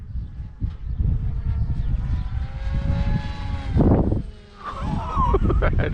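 A model airplane engine screams at high speed overhead, a loud buzzing drone that rises and falls in pitch as the plane passes. Wind buffets the microphone and people talk now and then.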